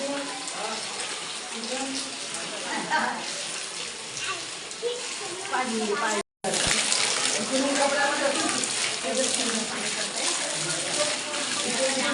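Steady rushing water flows continuously close by at Tuljapur temple, with voices talking faintly underneath, broken by one very brief dropout midway.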